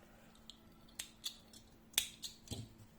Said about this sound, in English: I'm making one chain, cutting the yarn.